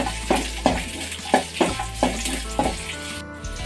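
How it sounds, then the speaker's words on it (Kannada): Garlic and green chilies fry in hot oil for a mutton pepper fry, a close steady sizzle broken by rhythmic stirring scrapes about twice a second, with no one talking. "ಹಸಿಮೆಣ್ಸಿಕಾಯಿ ಬೆಳ್ಳುಳ್ಳಿ ಕೂಡ ಫ್ರೈ ಆಗಿದೆ"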